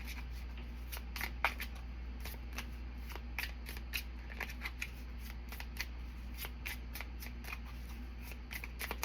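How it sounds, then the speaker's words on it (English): A deck of cards being shuffled, with quick irregular flicks and riffles over a low steady hum, close and fairly quiet. "Let's go ahead and get started with shuffling the deck."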